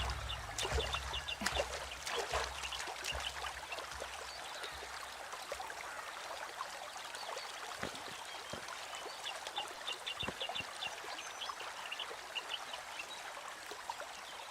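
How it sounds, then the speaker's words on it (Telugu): Water flows from a forest waterfall as a soft, distant trickle and babble, quiet and steady, with scattered light clicks and faint bird calls over it. "దగ్గరలో వాటర్ ఫాల్స్ ఉన్నాయేమో."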